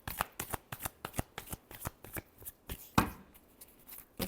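Tarot cards are shuffled by hand for a reading, producing a rapid run of close, crisp riffling bursts in an uneven rhythm, with no voice over them.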